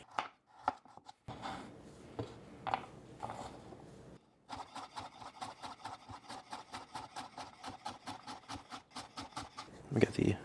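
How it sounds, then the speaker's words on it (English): Knife chopping carrots and scallions on a cutting board, scattered cuts at first, then a long even run of rapid close taps. "get to chopping"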